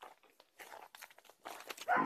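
A large dog barks in short, scattered bursts at moderate distance, with a louder, closer yelp near the end and light shuffling in between.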